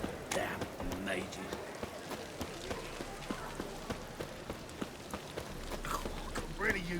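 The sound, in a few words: rain in video game The Witcher 3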